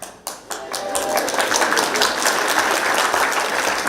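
At a briefing for a half-distance triathlon race, a few scattered claps swell within a second into full, sustained applause from the crowd, steady and fairly loud through to the end.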